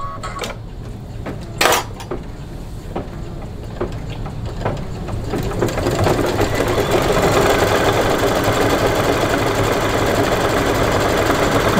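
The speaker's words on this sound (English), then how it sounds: "now we're gonna go ahead and do the crosshatch stitching" Single-needle embroidery machine stitching crosshatch background quilting in black thread, a few sharp starting clicks and then a dense, steady mechanical whir that grows louder and continues without talk.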